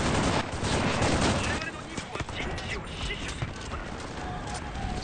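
A Type Hei automatic rifle fires in the World War II shooter Enlisted. Rapid, dense bursts of gunfire clatter continuously, with a voice talking over the shooting.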